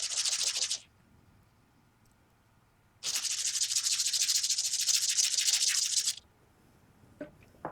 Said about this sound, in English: I'm just going to start sanding down the edge of that key